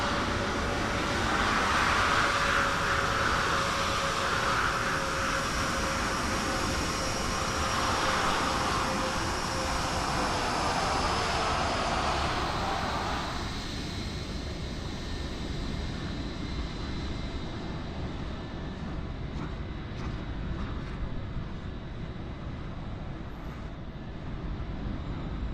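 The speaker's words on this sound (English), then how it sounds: "EasyJet just touching down on the opposite runway." An EasyJet airliner touching down on the opposite runway at Lisbon airport in Microsoft Flight Simulator 2020: a loud, steady broadband jet roar that drops to a quieter, smoother rumble partway through.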